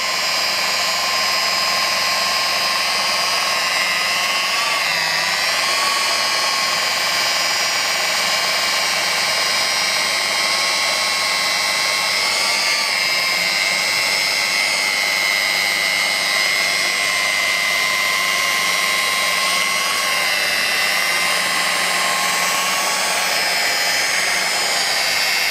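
A rotary car polishing machine works IPER-CUT-1 polishing paste into car paint, giving a steady, loud electric whine with a faint wavering pitch that runs without a break, with no voices.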